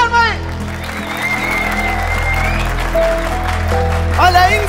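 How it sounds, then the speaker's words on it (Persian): Audience applause at a university gathering in a TV series, a steady wash of clapping lasting nearly five seconds under music and voices. "بازم تشویقشون بفرمایید."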